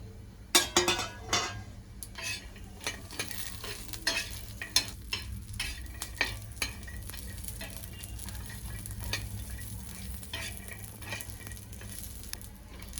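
Green chillies, garlic and cumin saute in a pan with peanuts, a soft sizzle under frequent clinks and scraping of a spoon stirring, busiest at the start, then steadier, with no talk.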